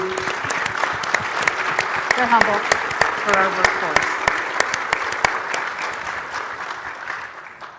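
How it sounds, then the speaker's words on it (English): Audience applause at a university event featuring the CISA director, honoring faculty members; steady, dense clapping fills the whole stretch while a voice speaks over it. "give them a round of applause for all they're doing"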